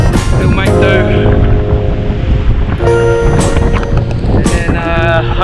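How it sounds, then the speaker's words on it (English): Strong gusts of wind buffet the microphone on an exposed hiking track, roaring in loud surges, with a person's voice speaking intermittently beneath the blustering. "Great views, very windy."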